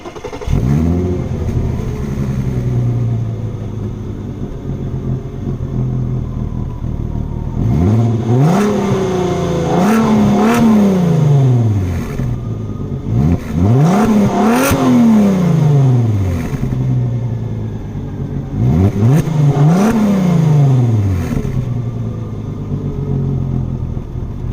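A muffler-deleted 3.6L VR6 in a 2007 Volkswagen Passat B6 4Motion wagon idles with a loud, rough rumble, then is revved hard three times, each blip rising and falling. It is close up, with no talking.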